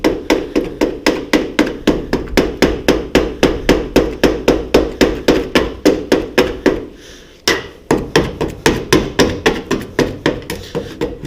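An old screwdriver jabs repeatedly at a rusty body panel on a Classic Mini. The sharp, loud metallic knocks come about three per second in a steady rhythm, with a short pause near the middle before they continue.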